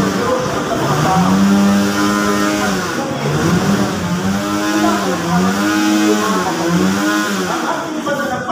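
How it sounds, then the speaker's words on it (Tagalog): Motorcycle passing loudly outside a chapel during Sunday Mass, a sustained engine drone with repeated rising and falling pitch sweeps as it revs, steady and close throughout. "Napakdahan ng motor na yun."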